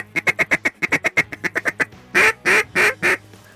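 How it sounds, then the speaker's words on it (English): Several ducks quack over a marsh decoy spread in the Great Black Swamp, first a quick run of short sharp calls, then a few longer, louder drawn-out quacks, close and clear with no talking. "I'd never call at the ducks here as they're coming over."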